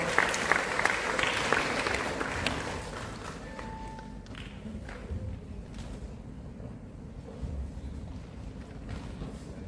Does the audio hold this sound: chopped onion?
no